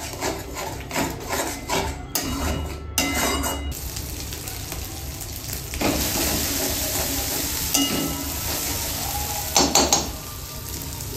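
Ginger-garlic paste sizzles steadily in hot oil while being stirred for a Bengali daab chingri prawn dish, with close scraping and knocking strokes over a continuous frying hiss and no voices.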